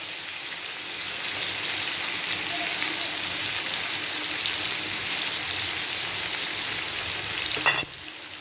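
Chicken pieces frying in a pan, a steady dense sizzle like rain that holds at an even level throughout, with a brief louder crackle near the end.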